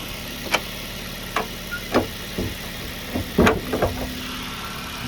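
A 1,339cc Honda Jazz engine idles steadily with a low, even hum, broken by a few scattered clicks and knocks at irregular intervals.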